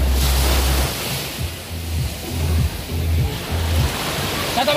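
Ocean waves wash onto a beach, a loud constant roar of surf with wind buffeting the microphone, and a low rumbling pulse underneath.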